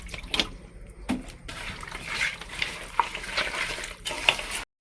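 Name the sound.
water poured into chicken curry pot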